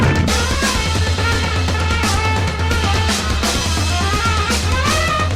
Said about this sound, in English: The Parish also had a different music theme for when hordes were summoned by the AI director.